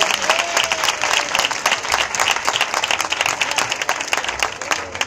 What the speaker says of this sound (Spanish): Entonces, un aplauso porque todos han